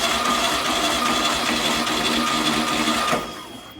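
The 1776cc engine of a VW Type 1, set up on a bench for a compression test, cranks over in a fast, even whirring rhythm for about three seconds up close, then cuts off.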